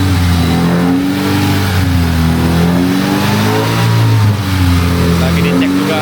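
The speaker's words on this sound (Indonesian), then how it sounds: "Akhirnya BMW N20 sudah naik mesinnya. Ini lagi dipanasin sama Bang Resya." A steady, close idle from a BMW N20 engine in an F30, freshly reinstalled and being warmed up after long disuse, with revs swelling and settling a few times and a person speaking over the running motor.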